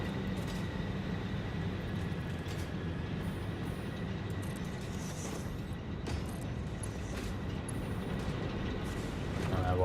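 A train rolling along in a video game, a continuous low rumble and rattle of rail cars at moderate, steady volume with no clear pauses.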